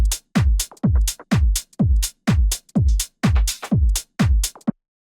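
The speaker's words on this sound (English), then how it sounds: "when I solo the drums, it sounds like this in the first part of the drop" Soloed tech house drums from the first part of a drop: a loud four-on-the-floor kick with booming low thumps, crisp offbeat hats and claps in a steady driving loop, no voices.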